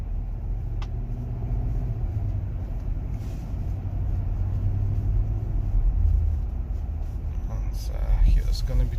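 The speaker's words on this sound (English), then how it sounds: "This car runs like new. Amazing, very smooth RPM, shifting." Infiniti QX80 engine running smoothly while driving, a steady low rumble and road noise throughout, with a person talking over it.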